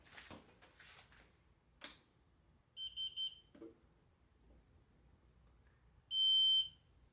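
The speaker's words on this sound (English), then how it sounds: "We got to press both the top and the back buttons for 5 seconds until you hear the signal." A Xiaomi Air Purifier 2 gives short electronic reset beeps: a quick cluster of three high-pitched tones, then a single longer beep a few seconds later, against quiet room noise and faint handling clicks.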